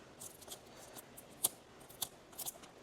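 A package is snipped open during a Nykaa unboxing, with several sharp, close scissor cuts spaced apart over faint background noise and no talking.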